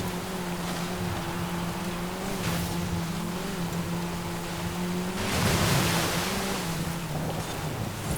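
Car driving through water in the Forza Horizon 5 racing game, a steady droning engine hum under a constant wash of rushing spray and splashing, with a louder surge of water near the end.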